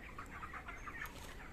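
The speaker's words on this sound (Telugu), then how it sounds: "ఇదిగో విమలా వాళ్ళ కోళ్ళ ఫామ్" Chickens cluck on a poultry farm, a soft, steady chorus of several birds calling in short overlapping bursts at moderate distance, with no talking.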